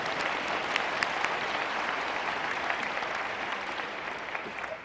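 An audience at a public discussion with Lawrence Krauss and Richard Dawkins claps in a steady, full round of applause, with crisp individual claps standing out through the dense wash and fading slightly at the end.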